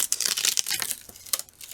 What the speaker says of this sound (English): And I'm going to lift my paper